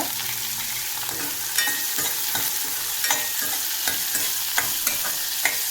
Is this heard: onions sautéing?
yes